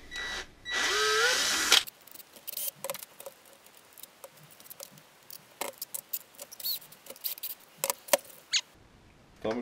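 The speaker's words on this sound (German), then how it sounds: "dann hier einmal mit einem 4 mm Bohrer" A power drill with a 4 mm bit whirs loudly in one short burst, then stops, followed by scattered clicks and light tapping.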